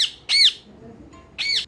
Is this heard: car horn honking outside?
no